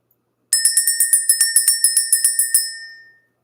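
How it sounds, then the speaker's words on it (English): A small handheld bell rings about fifteen times in a quick, steady rhythm, bright and close, then the final ring decays into silence. "Let's ring the bell."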